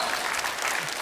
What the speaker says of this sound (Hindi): आर्को के लिए जोरदार तालियां हो जाएं.